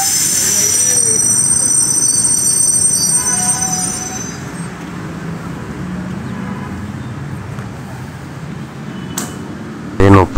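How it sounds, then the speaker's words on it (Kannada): A train pulls away from Malleswaram railway station as its steel wheels squeal in high, sustained tones over a steady rumble of rolling stock, with talk in the background and a sharp clatter at the end. "ಈಗ ಮಲ್ಲೇಶ್ವರಂ ರೈಲ್ವೆ ಸ್ಟೇಷನ್ ಬಿಟ್ಟಿದೆ ಟ್ರೈನು."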